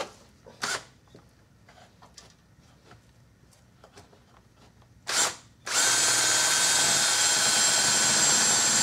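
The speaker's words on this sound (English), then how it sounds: "So I got a small hole drilled there." A power drill drilling a pilot hole during a bathroom remodel whirs in two short bursts amid quiet shuffling, then runs loud and steady for several seconds up close.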